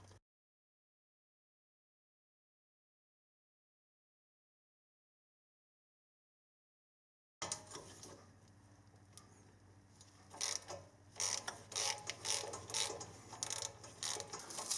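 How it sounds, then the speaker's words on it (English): Ratchet working a bolt loose on the front brake of a Toyota Sequoia or Tundra, rapid close metallic ratcheting clicks and scraping that start after a long silence and continue to the end. "I'm gonna break that bolt loose."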